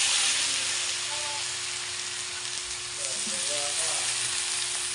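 Pork adobo fries in hot oil as soy sauce goes in, giving a loud, continuous close sizzle with brief stirring sounds and faint voices in the background.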